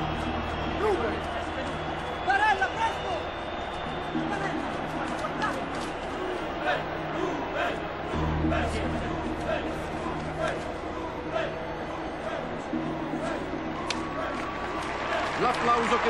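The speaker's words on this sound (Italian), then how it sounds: "L'applauso che sentite accompagna lo sfortunato Ruben a bordo campo" Stadium crowd applauding an injured football player as he is taken to the touchline, a steady, distant wash of clapping and crowd noise running throughout at a low level.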